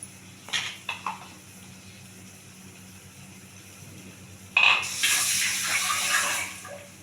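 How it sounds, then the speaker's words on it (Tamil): A couple of soft knocks, a quiet pause, then water suddenly gushes and splashes steadily into a mixer jar being rinsed, close by. "மிக்ஸி ஜாரை கொஞ்சம் கழுவி அதில் ஊற்றிடுறேன்"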